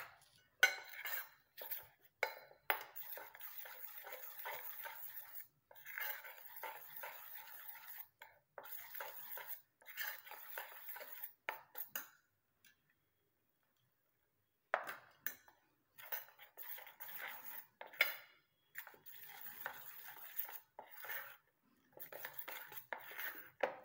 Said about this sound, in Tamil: இப்போது நம்ம எடுத்து வச்சுருக்கிற ஜூஸை கொஞ்சம் கொஞ்சமாக அதில் ஊற்றி கலந்துக்கலாம்.